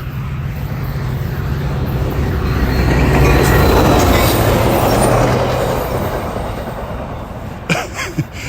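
A train rumbles past nearby, its broad roar swelling to a peak midway through and then easing off, ending in a few sharp metallic clanks with no talking over it.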